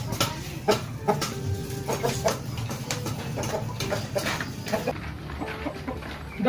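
Chickens cluck repeatedly in a farm setting, a steady run of short, choppy calls close by over a busy, noisy background, with no clear talk.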